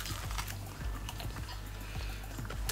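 Crunchy pastry being eaten close up, a steady run of small crisp crunching bites and chewing clicks over a low background hum, with no talking.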